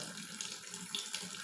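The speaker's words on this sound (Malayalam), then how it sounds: "ഈ ഐസ് ക്യൂബ് നമ്മൾ ഇങ്ങനെ പൈപ്പ് തുറന്ന് വെച്ച് ഇങ്ങനെ പിടിച്ച്" Tap water running steadily over an ice cube tray held beneath an open faucet, a continuous close splashing hiss with a few brief brighter spatters, no voices.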